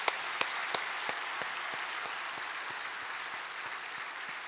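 Applause from a church congregation honouring the worship singers, two children among them, with a steady wash of clapping and a few sharper claps standing out early on, fairly distant and unbroken.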